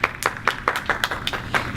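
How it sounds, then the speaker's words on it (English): A few people clapping their hands at a Nigeria Independence Day parade, about a dozen sharp, close claps in a quick, slightly uneven rhythm with nothing else over them. "Clap, clap, clap, clap, clap, clap, clap, clap, clap, clap, clap, clap."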